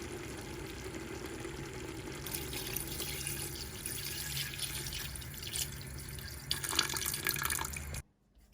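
About two glasses of water poured into a simmering salted tajine sauce with cinnamon, a steady close splashing and running-water wash that swells louder near the end before cutting off abruptly.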